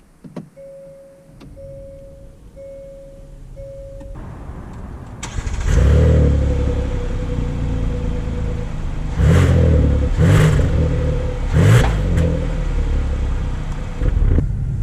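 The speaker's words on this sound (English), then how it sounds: "We are setting off here in the 2020 Hyundai Palisade" A 2020 Hyundai Palisade Limited SUV setting off: a few regular chimes from the cabin, then the engine catching and rising to a loud rumble with repeated clicking bursts as it pulls away, no speech.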